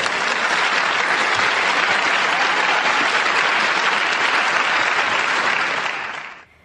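A large audience breaks into a sustained swell of applause, dense and loud, holding steady for several seconds before fading out at the end.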